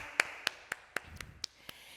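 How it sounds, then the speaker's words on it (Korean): Congregation clapping at a children's and elementary Sunday church service: about seven sharp, evenly spaced claps in a steady beat, faint and distant, with no voices. "같이 하나님께 영광의 박수 올려드리겠습니다."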